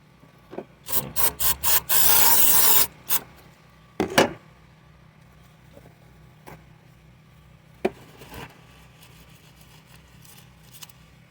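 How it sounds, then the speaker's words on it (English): Scrubbing the gunk off a Nissan/Infiniti/Renault throttle body with air intake cleaner: several short brushing scrapes, then a sustained spray hiss, followed by scattered clicks and taps, close and with no speech. "we're just going to clean that up a little bit with some air intake cleaner and some shop sauce"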